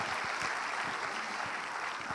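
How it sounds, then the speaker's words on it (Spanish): A church congregation applauds men at a service, giving steady, moderately distant clapping that fills the space evenly without a break. "Denles un aplauso a estos varones."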